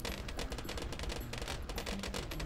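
Rapid mortar tower fire in Bloons TD 4 on the Ocean Road map, a dense, continuous barrage of overlapping game explosions and shots with no gaps, loud and steady throughout.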